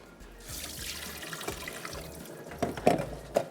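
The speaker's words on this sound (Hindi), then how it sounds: "चावल भी हम पानी से निकाल लेते हैं, चावल भिगो के जो हमने रखे हुए हैं" Soaked rice is lifted out of its soaking water while making chicken biryani in a kitchen, giving a wet sloshing rush that ends in a few close splashes and drips.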